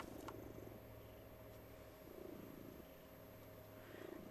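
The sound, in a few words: cat purring in the video game Reka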